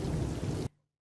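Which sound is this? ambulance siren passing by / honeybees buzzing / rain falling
rain falling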